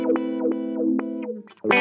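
A Zvex Super Seek Wah guitar pedal chops a sustained guitar tone into hard, stepped on-off pulses, the filter jumping abruptly from one step to the next in a quick rhythmic sequence, loud and distorted.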